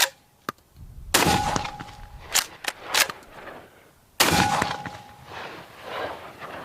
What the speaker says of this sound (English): So we're just going to fire 3 rounds.